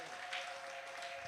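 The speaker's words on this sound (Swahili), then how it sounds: "Pigia Mama Kenya makofi mazuri." Applause at a church women's camp meeting, a faint, steady patter of many hands clapping in a large gathering, with no voices over it.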